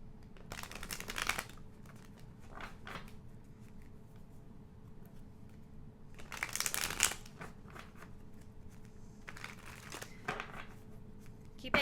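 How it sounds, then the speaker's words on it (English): Tarot cards being shuffled and pulled for a reading, giving quiet papery riffles and crisp card snaps in a few separate bursts, with soft low room noise in between. "let's pull some tarot cards"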